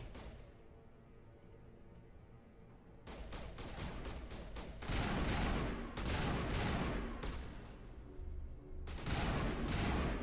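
Rapid bursts of gunfire from the player's weapon in the video game Mass Effect, loud and close, with clustered shots building into heavy volleys that come in waves across the clip.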